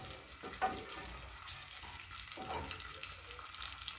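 Onions frying in a pot for beef pilau give a steady, low sizzle with a few brief stirring clatters, close and fairly quiet, with no talking.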